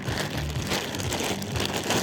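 A plastic bag crinkles close up as a freshly caught fish from light rock fishing is put inside, a busy rustling and crackling that continues throughout with no talk.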